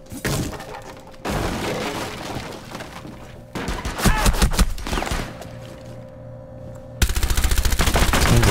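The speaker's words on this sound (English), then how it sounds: "Someone's shooting in the skylight already. They shot me." Rapid automatic gunfire in the video game Rainbow Six Siege, loud dense bursts with breaking and shattering impacts, running almost continuously and getting heavier toward the end.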